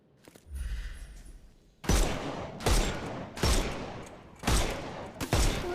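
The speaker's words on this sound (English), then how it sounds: "Shoot off their armour." Bursts of gunfire from the video game Sherlock Holmes Chapter One, four or five loud, close volleys at steady intervals after a quieter opening stretch of ambient noise.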